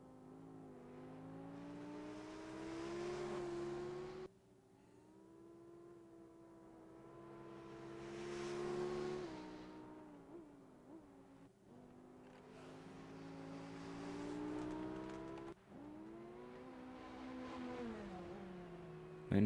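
Race cars in the Rennsport racing game at Road Atlanta, engines repeatedly rising in pitch through the gears and falling off, several rounds of revving and shifting heard steadily with no talk.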